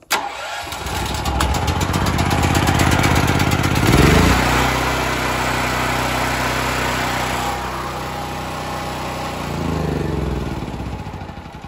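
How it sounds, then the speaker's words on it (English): A Generac 6500E portable generator cranks and catches, its engine then running loud and steady close by, with a brief dip and a rise in pitch as the choke is taken off. "You wanna make sure you hit the start until it starts, and then take your choke all the way off."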